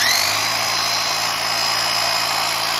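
An old hammer drill bores into masonry for a ham radio station ground and feed line entrance, a loud continuous whining grind with a steady rapid hammering texture, close up and uninterrupted.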